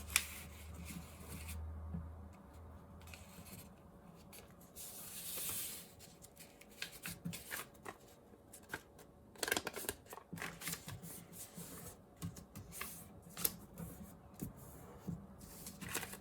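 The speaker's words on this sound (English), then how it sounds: "we're going to take this edge, fold it over to this edge, so we're folding the paper in half again, the other way" Paper being folded in half for an origami rabbit: soft creasing, rustling and sliding strokes, close and quiet, in irregular bursts with no talk.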